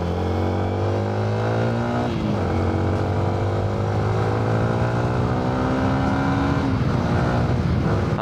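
A Yamaha Sniper 155 VVA motorcycle engine drones loudly while riding, pitch stepping up through the gears with shift drops, plus steady wind noise.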